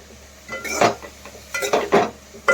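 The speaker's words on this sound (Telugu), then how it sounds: "మూత పెట్టుకొని ఇలా కలిపేసుకొని మూత పెట్టుకొని మగ్గించుకుందాం." Cabbage being stirred in a pan with a metal utensil and then covered with a lid, giving several close clinks and scrapes in quick clusters without any talk.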